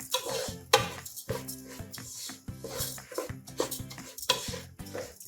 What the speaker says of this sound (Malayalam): അതൊരു 5 മിനിറ്റ് നന്നായിട്ട് ഇങ്ങനെ ഇളക്കി കൊടുക്കണം.